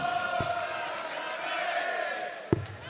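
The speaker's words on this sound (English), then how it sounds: "Chants in the crowd going up for Gary Anderson" A darts arena crowd raises a sustained chant for Gary Anderson, a steady broad roar of many voices that fills the space, punctuated by a couple of sharp thumps.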